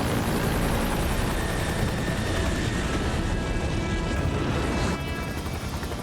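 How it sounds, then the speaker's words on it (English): A civilian helicopter in flight produces a loud, steady rotor and engine roar that fills the whole moment, with constant broadband noise and no voices. "I'm in a civilian helicopter."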